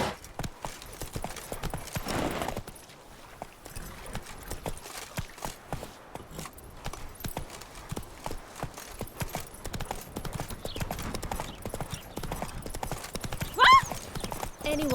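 Hooves of Roach, Geralt's horse in The Witcher 3, clip-clopping in a steady trotting rhythm throughout, with brief talk and an occasional snort or whinny over the game's ambient background.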